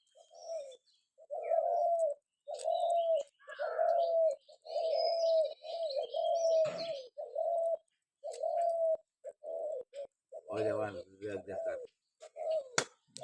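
A dove coos in a steady series of about a dozen soft, low calls with short pauses between them, fairly close in a quiet outdoor setting, with a few faint clicks and chirps.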